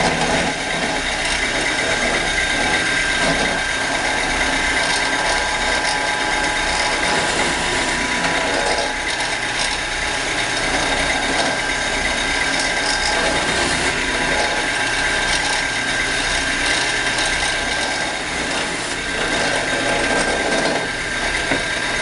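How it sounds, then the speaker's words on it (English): A drill press bores holes into wood for dowel pins, a loud, unbroken mechanical whir and grinding that holds steady from start to finish. "Now that we've got our holes drilled for our dowel pin"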